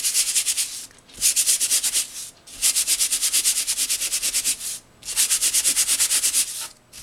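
Ornament pieces are sanded by hand in steady back-and-forth strokes, a close, loud, rhythmic gritty rasp that comes in several runs broken by brief pauses.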